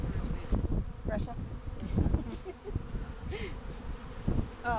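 Russian honey bees buzz in a steady swarm at a backyard hive, a dense close hum with several individual bees droning past, and brief quiet speech underneath.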